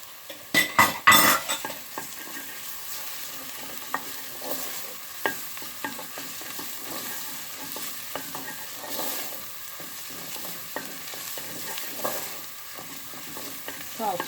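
Tomato paste and browned onions sautéed in a pot, a constant sizzle broken by frequent clinks and scrapes of a spoon against metal, starting with a few loud knocks, close with no talking.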